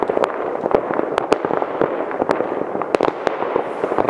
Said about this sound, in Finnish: Siellä meni jätkän raketti.